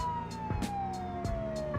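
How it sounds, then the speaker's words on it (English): A video game police car siren wails, sweeping steadily downward, with repeated thumping hits and bursts of noise around it; no one speaks. "select the lights icon to control the lights and siren."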